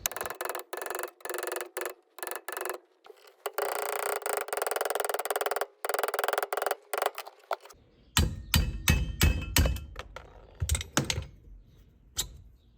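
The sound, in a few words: hammering out a shifter retainer pin with a center punch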